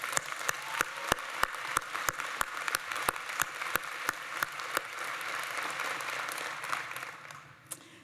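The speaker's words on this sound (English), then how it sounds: "please give each other a round of applause" Law school graduates at a commencement ceremony clap in sustained applause, a dense crackle of many hands with sharp recurring claps standing out, continuing steadily before fading near the end.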